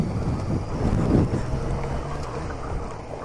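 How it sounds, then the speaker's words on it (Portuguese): Wind gusting across a microphone outdoors in open countryside, a steady loud low rumble with a stronger buffet near the middle, no voices. "Nossa, que vento."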